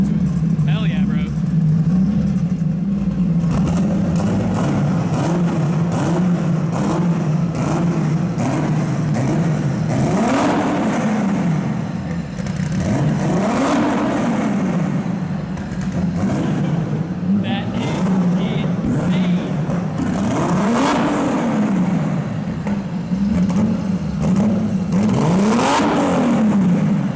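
A turbocharged BMW E46 M3 with an S54 engine and a huge street turbo revs loudly and close, its pitch rising and falling in repeated waves while people talk over it.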